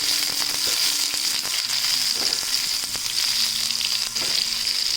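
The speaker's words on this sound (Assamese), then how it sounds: "এতিয়া মই ইয়াত দি দিম পিঁয়াজ" Onions frying in hot oil for a green amaranth stir-fry, a loud, constant close sizzle with occasional light stirring knocks.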